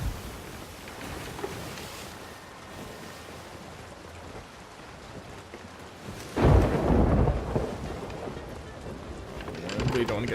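A thunderstorm at sea in the pirate video game Sea of Thieves, with steady rain and wind-driven water and a heavy rumbling surge of thunder midway. A voice talks over it.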